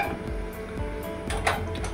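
A metal cooking pot is handled in a kitchen, giving a few light clinks and scrapes over quiet background hum.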